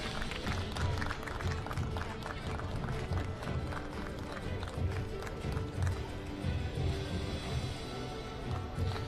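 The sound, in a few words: audience applause for the athletes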